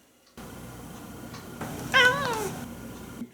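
Cats meowing from a television show, a couple of short mewing calls rising over a steady background hum, moderately loud with no talk.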